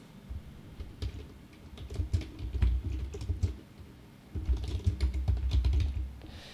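Close, quiet typing on a computer keyboard, two quick bursts of rapid key clicks separated by a short pause, with no talk over it.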